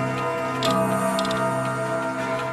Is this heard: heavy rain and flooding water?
no